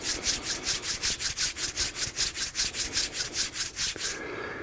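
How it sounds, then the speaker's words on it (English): Palms rubbed briskly together make a rapid, even series of about twenty close, dry swishing strokes in a steady rhythm before stopping. "We start off with warming up our hands, rubbing our palms briskly"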